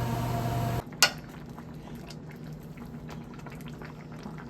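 A pot of sweet potato boiling with jaggery gives a low continuous bubbling simmer, following a loud hiss that cuts off abruptly and a single sharp clink of a pan.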